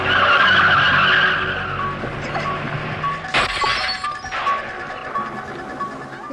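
A car in the 1978 film Halloween skids as it drives off: a loud, close tire screech that fades over a couple of seconds, followed by a sharp crash-like burst and scattered rattling noise.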